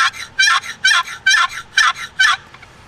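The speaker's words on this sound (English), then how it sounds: "This is my old slide box call." Six evenly spaced turkey yelp bursts from an old wooden slide box call, each a raspy, drawn-out stroke, loud and close, with brief pauses between them and no talking.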